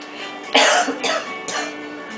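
Three short, breathy coughs or throat-clearing bursts spaced about half a second apart, close and moderately loud over a faint background hum.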